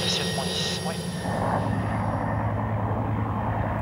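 Caracal military helicopter lifting off with special forces, a loud steady rotor and turbine roar that fills the scene from start to finish, with brief radio-like chatter at the start.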